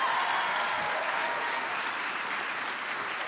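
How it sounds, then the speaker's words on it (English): A college commencement audience at Gettysburg College breaks into dense, sustained applause, a broad even wash of clapping that holds steady from start to finish. "we all ought to give her a tremendous round of applause"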